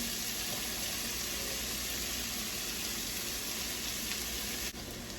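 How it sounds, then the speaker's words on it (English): Green and red peppers with onion, from a frozen pre-cut pack, sizzle in a pan. The frying is a steady, dense crackle that holds at an even level throughout and has no talk over it. "next I'm going to add my peppers. I have green peppers, red peppers, and then this is some onion."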